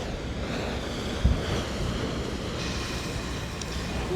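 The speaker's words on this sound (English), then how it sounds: "It's the sound of waves." Ocean waves wash onto a beach at sunset, a steady broad surf roar mixed with wind noise on the microphone, with one brief bump partway through.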